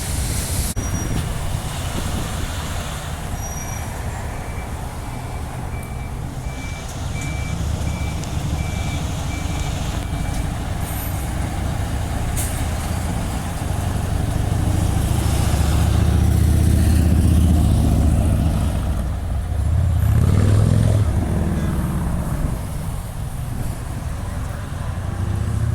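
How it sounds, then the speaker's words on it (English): A bus pulls into the Ellenbrook town centre bus stand, a steady loud engine rumble and rolling noise swelling near the middle, with faint beeping and a voice speaking briefly. "New bus."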